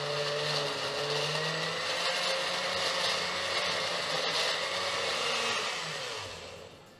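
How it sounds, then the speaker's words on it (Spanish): A kitchen blender runs at high speed blending hot chili peppers (ají) with their seeds and skins, a steady, whirring motor drone that holds for several seconds, then winds down at the end. "Lo debemos licuar bastante, darle buena licuadora para que se licúen lo más que se puedan las semillas y la cáscara"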